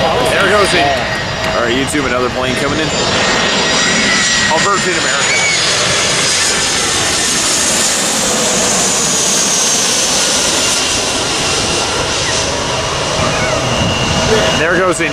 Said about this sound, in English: another plane coming in. Virgin America.